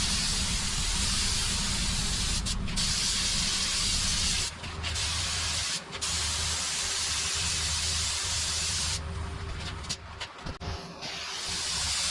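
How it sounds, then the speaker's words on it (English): Spray gun hissing out epoxy primer onto truck rocker panels in steady, loud sustained bursts, with a few short pauses between passes and a sputtering stretch near the end. "I'm going to start off with just getting a little epoxy on these and then we'll go and mix up some paint and get spraying in the booth"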